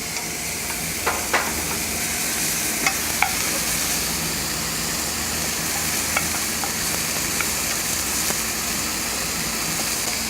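Caramelized onion fries with potatoes and mushrooms in butter, making a continuous close sizzle with occasional stirring clicks and scrapes.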